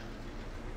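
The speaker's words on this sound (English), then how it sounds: "There's the train." Steady low rumble of a train rolling along the rails in Farming Simulator 22, a continuous dense drone filling the short moment with no break.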